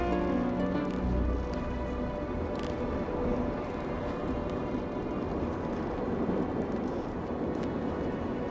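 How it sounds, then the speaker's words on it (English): Thunderstorm sound effect in an audio drama, a steady roaring wash of storm noise with a low rumble of thunder near the start, continuous and fairly loud throughout, with no one speaking. "we continue to drift at an alarming rate, while the storm rages on below us"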